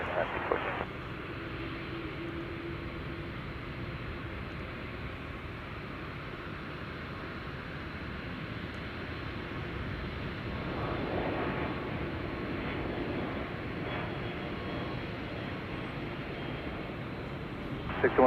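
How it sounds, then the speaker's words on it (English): A Royal Jordanian airliner taxis and turns at Chicago O'Hare airport, heard as a steady, distant engine rumble and roar that swells slightly midway, with a person talking over it. "our Royal Jordanian aircraft making the turn here."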